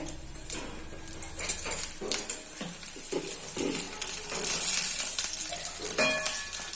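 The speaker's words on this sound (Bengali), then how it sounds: "আমি আলু আর কুমড়া বেশ ভালো করে ভেজে নিচ্ছি" Potato and pumpkin slices fry in oil with a continuous crackling sizzle, punctuated by clinks and scrapes of a spatula against the pan, the frying growing louder partway through.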